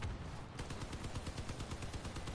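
25mm cannon fire in the vehicle combat game Crossout: rapid, evenly spaced bursts of shots rattling continuously over a low engine drone, loud and close with no talking.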